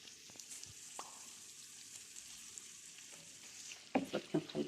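Kofta and liver dropped into a pan of simmering sauce for a Moroccan dish, a steady low sizzle that turns louder with a few sharp, close bursts near the end as the meat lands and is stirred.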